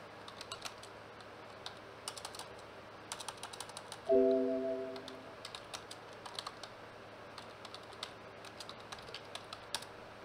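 Rapid keystrokes on a computer keyboard while setting up VNC on Ubuntu 18.04, a steady patter of close clicks running throughout, with one brief low mechanical thump partway through.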